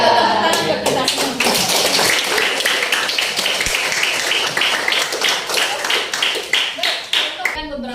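A classroom of students claps together in lively, dense applause that carries on for several seconds, with some voices mixed in.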